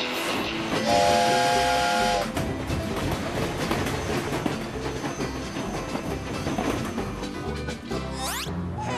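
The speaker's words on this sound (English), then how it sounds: "Stop! Stop the train!" A loud cartoon steam whistle blows over the rumbling, hissing clatter of a moving train, with a second whistle rising near the end.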